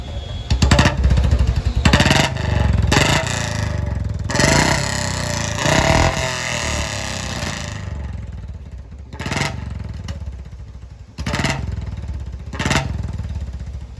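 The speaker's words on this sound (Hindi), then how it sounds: "अंकल जी ने कर दिया कार्बोरेटर की सेटिंग वगैरह और स्टार्ट कर दिया बुलेट अपनी।" Royal Enfield Bullet motorcycle just serviced with a carburettor adjustment, its single-cylinder engine idling close by with a steady thumping rumble and a few louder revs and clattering bursts.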